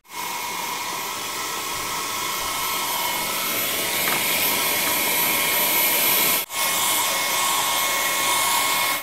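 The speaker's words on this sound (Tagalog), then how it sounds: "Solid, grabe itong Xiaomi Vacuum Cleaner P30 natin, ano?" A Xiaomi Vacuum Cleaner P30 runs with a loud, steady high-pitched whine and airy roar while cleaning an aircon filter, cutting out for a split second before resuming.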